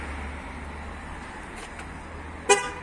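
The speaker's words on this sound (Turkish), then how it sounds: "Bakın kitlemede kornalı onay yaptık." A Volkswagen Golf 7 gives a single short horn chirp to confirm remote locking, loud and close, rising out of steady low outdoor background noise with no talking.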